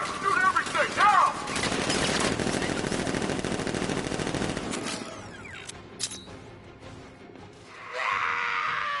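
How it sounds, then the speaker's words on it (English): Rapid machine-gun fire in the Batman Arkham Knight video game, loud and sustained for about five seconds with clattering and shouting mixed in, then fading into scattered mechanical clanks and a rising hiss. "Open fire! Shoot everything!"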